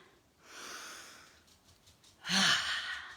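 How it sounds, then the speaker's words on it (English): During a workout, a deep breath is drawn in softly, then released as a louder, breathy sigh near the end, faint and close with no talking. "we're going to take a big breath in"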